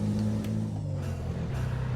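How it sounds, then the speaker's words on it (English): A heavy truck engine in Euro Truck Simulator 2 hums steadily and drops pitch through a gear change, with a brief soft air hiss from the pneumatic gear system. "you can hear the truck doing the gear changes with the air system"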